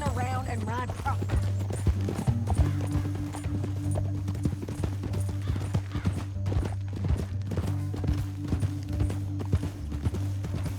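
Horse hooves galloping in the video game Red Dead Redemption 2, a rapid, steady clip-clop of several horses riding close together, loud and continuous over a droning music bed with a brief whinny near the start.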